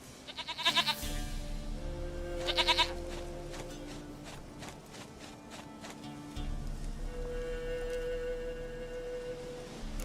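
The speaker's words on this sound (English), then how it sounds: "Goat of mine, dearest, sweetest goat." A goat in The Witcher 3 gives several loud, wavering bleats, two strong quavering calls early and then drawn-out, nasal ones, over a low droning bed of game ambience.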